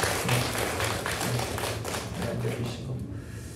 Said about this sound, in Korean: 우리 한번 환영의 박수